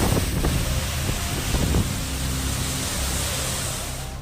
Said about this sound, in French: il y a vraiment un vent très fort